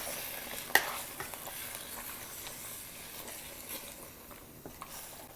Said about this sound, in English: And I'm going to mix it.